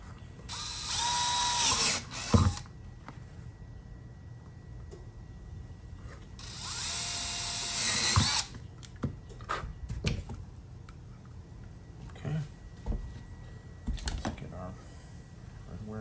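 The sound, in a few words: drill drilling a hole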